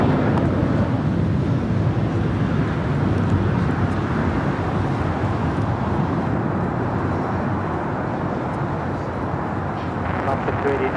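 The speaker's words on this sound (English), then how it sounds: "This is flight 1260 taking off to Denver." A loud, steady jet roar from an airliner taking off from LAX for Denver fills the air, a broad sustained rumble that slowly eases.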